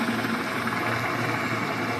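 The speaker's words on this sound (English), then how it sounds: "watch out for that helicopter." A helicopter in the Battlefield Hardline video game gives a steady, loud rotor and engine drone, continuous throughout with no talking.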